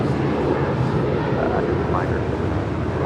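Alaska Airlines airliner in the More to Love livery holding after a cancelled takeoff at Los Angeles International Airport, a steady loud engine rumble and roar filling the scene without a break, with voices underneath.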